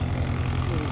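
A seaplane's propeller engine roars steadily and loudly at close range as the aircraft rolls at a lakeside fly-in in Grand Marais, Michigan, a continuous throbbing drone without a break.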